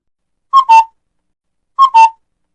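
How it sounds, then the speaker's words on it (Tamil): Two clean two-note calls of a koel (cuckoo) as a sound effect, each a short rising-falling whistled pair, spaced about a second apart against silence, loud and close. "குக்கு குக்கு என கூவியது குயிலின் ஓசை செழியனின் செவிக்கு இனிமையாக இருந்தது"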